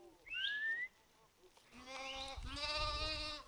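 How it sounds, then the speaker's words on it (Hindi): Sheep bleating in a Himalayan pasture in Himachal Pradesh, one short nasal call followed by a longer, louder, wavering bleat, close and clear over faint outdoor ambience. "पिछले 25 साल से हिमाचल प्रदेश की चारागाहों में वो अपनी भेड़ें चरा रहे हैं।"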